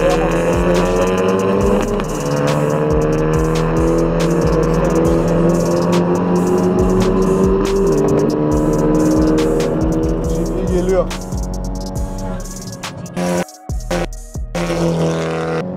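Hyundai i20 N and Mini Cooper GP2 drag racing, loud engines roaring through rising gear-by-gear acceleration close by, with a brief lull near the end as revs drop and pick up again; someone speaks briefly over it.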